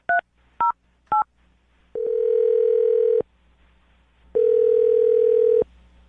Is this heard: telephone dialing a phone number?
yes